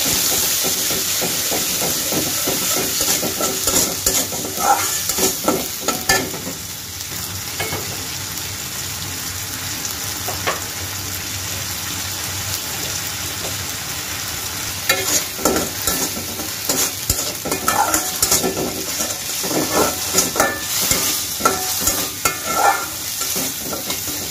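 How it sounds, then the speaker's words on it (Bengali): Onion and garlic paste sautéing in a pan gives a loud, continuous sizzle with hissing steam, broken by repeated bursts of a spatula scraping and stirring, and no talk. "নিয়ে নিচ্ছি পেঁয়াজ বাটা, নিয়ে নিলাম রসুন বাটা। এটাকে কষিয়ে নেব।"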